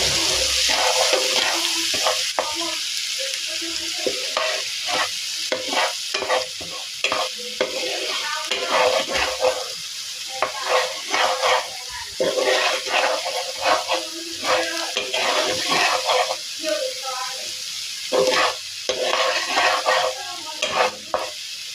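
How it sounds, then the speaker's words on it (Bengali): Marinade spices sizzle in hot oil left from frying chicken, with a spatula scraping and stirring in repeated strokes; the frying hiss stays loud and close throughout. "সেগুলো এই চিকেন ভাজার তেলে দিয়ে দেব। এবার এটিকে আমি ভালো করে ভুনে নেব।"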